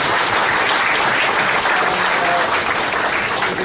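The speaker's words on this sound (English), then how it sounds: "I think we should first give Anil a round of applause." A lecture audience applauds a speaker at an environment and entrepreneurship talk, a dense steady roar of clapping from many hands that holds loud and even from start to end.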